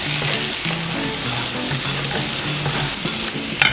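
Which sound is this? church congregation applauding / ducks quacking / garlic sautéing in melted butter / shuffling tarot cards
garlic sautéing in melted butter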